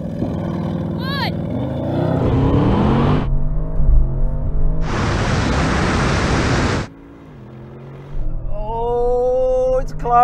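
An Audi RS6 and a Tesla Model X launching side by side in a drag race, the RS6 engine roaring and rising through gears with loud rushing wind noise, while a voice shouts over it.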